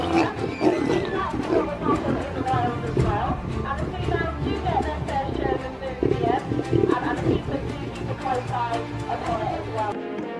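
A lion in a zoo growls and roars steadily while taking meat back from a lioness, a dense rumbling struggle heard throughout with speech over it.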